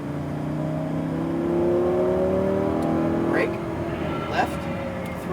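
A Lamborghini Huracan engine rises in pitch as it accelerates under throttle on a track, heard as a steady, climbing drone from inside the car while an instructor talks over it.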